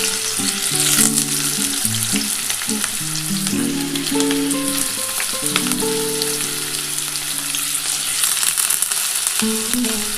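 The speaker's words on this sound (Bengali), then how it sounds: "তেলটা একটু গরম হলে আমি আলুগুলো দিয়ে দেবো" Potato pieces fry in hot oil for a Bengali cauliflower-stem posto dish, giving a steady, close sizzle that carries on evenly for the whole stretch with no talking.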